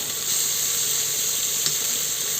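Ginger, garlic and green chili paste sizzles steadily in a hot pan for prawn biriyani, a loud continuous crackling hiss with a faint scrape of stirring, no voices.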